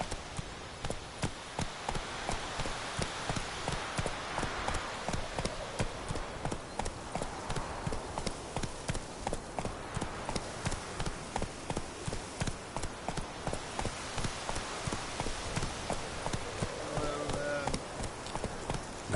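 Roach, the horse in The Witcher 3, gallops with rapid, steady hoof clip-clops that carry throughout at a moderate level over a faint background wash.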